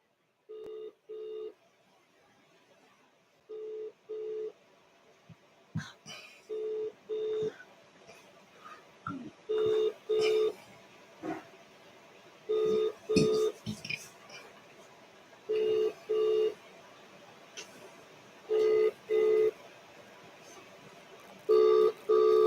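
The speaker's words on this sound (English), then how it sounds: "No answer. It's ringing. No answer." A phone call goes unanswered, with a repeating ringback tone in paired bursts sounding over and over, fairly loud and regular, with faint background noise.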